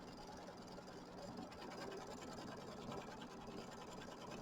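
A sewing machine quilts stitches around a mini quilt block with a fast, steady mechanical chatter that carries on without a break, close and fairly quiet.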